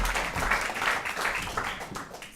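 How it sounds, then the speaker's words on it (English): An audience at a democracy lecture claps to welcome a speaker, a dense, steady wash of applause from many hands that fades slightly toward the end. "I hope you will all welcome him with a big applause."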